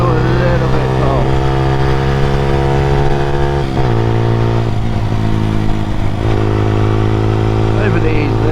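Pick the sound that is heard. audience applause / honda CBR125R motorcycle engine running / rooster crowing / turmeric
honda CBR125R motorcycle engine running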